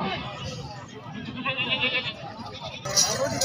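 Goats bleating at a madrasa livestock market where goats with kids are for sale, the calls rising over steady crowd chatter and nearby talking.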